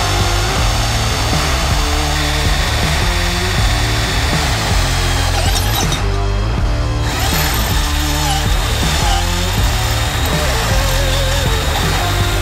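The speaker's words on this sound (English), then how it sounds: "So I'm gonna drill some holes in this." A power drill boring holes into a truck axle part during a driveway lift build on a Ford, a loud steady close whine that runs continuously with a brief dip midway.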